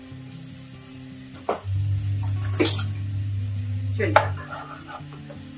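Ginger garlic paste, about a tablespoon, hits hot oil in a non-stick pan, giving a sustained sizzle with brief clatters of stirring, close up, while a voice speaks briefly.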